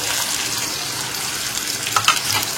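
Onion, green chilli, garlic and tomato sautéing in hot oil in a home kitchen, a steady close sizzle with soft stirring scrapes and a couple of brighter clinks near the end.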